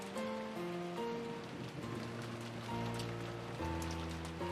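Rain and wind in the Umineko visual novel: a steady, even wash of downpour running the whole time beneath sustained musical tones.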